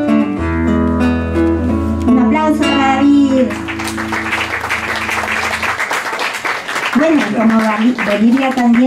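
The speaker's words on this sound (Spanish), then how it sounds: "Un aplauso para David." Applause rises for David after his poetry reading, starting after a few seconds of sustained musical tones and building into dense clapping under talking voices.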